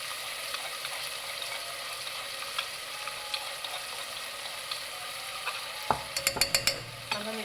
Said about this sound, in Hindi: अब हम इसको 2 से 3 मिनट पकाएंगे ताकि अदरक और लहसुन का कच्चापन दूर हो जाए।